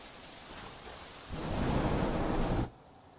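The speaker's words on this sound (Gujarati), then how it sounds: "મોડી રાતથી વરસાદની શરૂઆત થઈ છે" Heavy rain falls on Ahmedabad at night, a steady hiss that swells into a loud rumbling thunderclap for over a second before dropping back to the rain alone.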